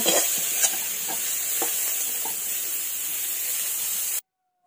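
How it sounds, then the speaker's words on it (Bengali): Cauliflower pieces fry in mustard oil in a kadai with a constant, bright sizzle, with a few soft clinks and stirring scrapes scattered through it before it cuts off abruptly. "ফুলকপিগুলো ভাজা হয়ে গেছে, এগুলো তুলে নেব"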